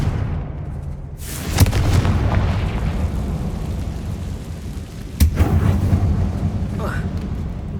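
A Confringo spell explosion in the video game Hogwarts Legacy, set in a closed mine: two sharp blasts go off about four seconds apart over a steady rumbling background, loud and close.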